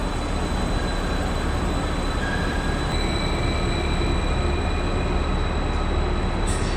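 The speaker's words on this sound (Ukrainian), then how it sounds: "Все, потяг на Берлін поїхав." A train pulls out of a large, busy Vienna station bound for Berlin, its steady rolling rumble continuous and fairly loud with faint wheel squeals rising briefly, no talk over it.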